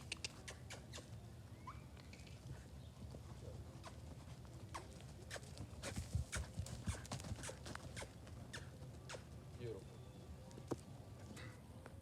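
A horse loping around an arena, its footfalls landing as a soft, rhythmic patter of hoofbeats against a steady background, with a person talking over it.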